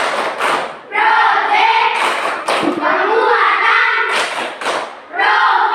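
Primary school class in an Indonesian classroom doing a rhythmic clapping chant led by one pupil, with children's voices chanting over the repeated claps.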